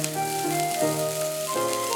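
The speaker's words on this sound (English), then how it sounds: "Saute until the onions turn soft and translucent." Ginger, garlic and onions sauté in hot oil with whole spices such as cardamom and cinnamon, a soft continuous sizzle running under sustained music notes.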